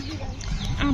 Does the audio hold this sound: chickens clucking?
yes